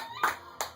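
Two soft, separate hand claps close by during a children's clapping song at home, spaced about a third of a second apart over quiet background.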